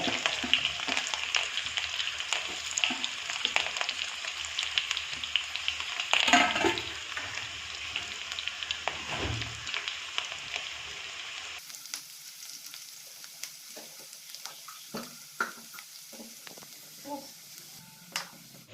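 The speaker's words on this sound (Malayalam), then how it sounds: "ഞാൻ കുറച്ച് ഇഞ്ചിയും ഒരു 4 പച്ചമുളകും കൂടി അരിഞ്ഞ് വെച്ചാണ് ഇട്ട് കൊടുക്കാം." Chopped ginger and four green chillies fry in a pan, making a continuous close sizzle with occasional stirring; partway through, the sound cuts abruptly to a quieter, sparser crackle.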